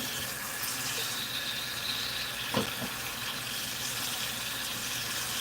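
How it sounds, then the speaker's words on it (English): Hot water runs from a kitchen sink tap in a steady, moderately loud hiss, with a brief clunk partway through and no talking. "And now I'm going to run the water."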